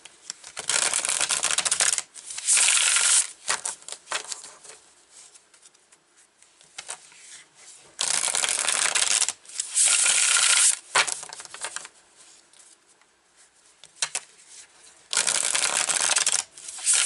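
Tarot cards being shuffled in bursts of dense riffling, several separate rounds of a few seconds each with quiet pauses between them, close and fairly loud with no talking.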